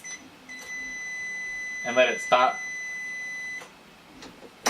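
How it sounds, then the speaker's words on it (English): Turbo Lock electronic keypad door lock emits a steady, loud beeping tone lasting several seconds, with a person speaking briefly partway through. "So if you don't unlock it while it's beeping, you gotta put the code in again."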